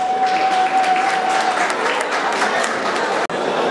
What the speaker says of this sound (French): Applaudissez-vous, s'il vous plaît, pour notre prêtre de la soirée